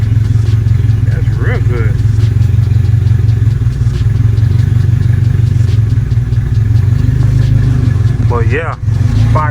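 Turbocharged K20 engine in an EG Honda Civic running loud and steady at close range, a low rumbling idle with clattering mechanical noise throughout and a voice speaking briefly over it.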